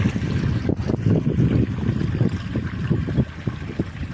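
Water pours from two motor pumps joining into one flow, a loud, churning rush with a heavy low rumble and constant splashing.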